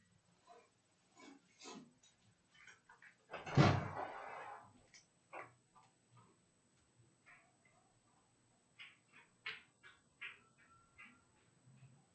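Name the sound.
door being opened when someone arrives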